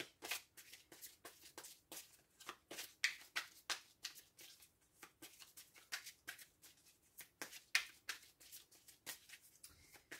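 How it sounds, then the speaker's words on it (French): Oracle cards are shuffled and drawn in quick, regular riffling bursts, close and fairly soft, with no talking. "On va tirer 3 ou 4 cartes"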